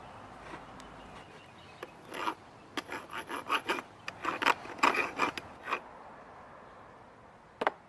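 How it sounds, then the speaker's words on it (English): Hand filing of metal with a thread file during fence repair: irregular bursts of short rasping strokes, several in quick succession, close and fairly loud, with pauses between strokes and no talking. "Find my thread file."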